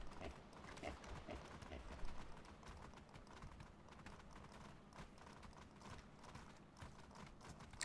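Horse hooves clip-clop in the video game Atlas, a quick, steady run of soft thuds that carries on throughout at a moderate, unchanging level without any voices.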